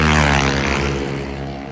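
Three Yamaha Aerox scooters with CBT engines race past, their engines giving a loud, close, high-revving whine. The roar fades slightly as the scooters pull away.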